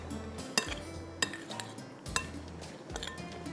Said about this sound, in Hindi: बस इसको अब करते हैं मिक्स